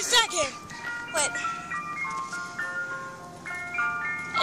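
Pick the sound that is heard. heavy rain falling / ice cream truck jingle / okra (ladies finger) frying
ice cream truck jingle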